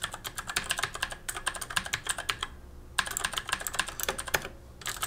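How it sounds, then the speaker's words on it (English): Rapid clicky keystrokes from a Tesoro Excalibur Spectrum mechanical keyboard with blue switches rattle in quick bursts, with a brief pause between runs of typing. "I'm gonna do a little bit of typing so you guys can kind of, hear what they sound like"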